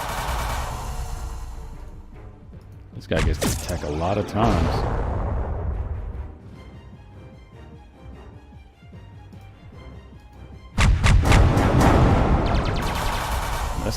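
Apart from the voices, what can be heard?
gunfire in the video game Halcyon 6: Lightspeed Edition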